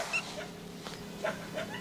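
Small white village-breed puppies whimpering faintly, with a few brief high whines over a quiet background.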